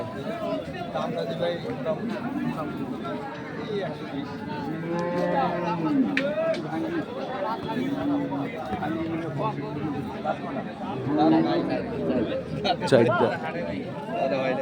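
Dairy cows and calves lowing at Ambari cattle market in Dinajpur, several moos rising over a busy crowd of chattering traders and nearby voices throughout.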